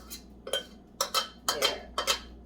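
A spoon stirs yeast in a bowl while making Filipino pandesal buns, giving sharp, close clinks against the bowl in quick pairs, spaced about every half second, with no talking.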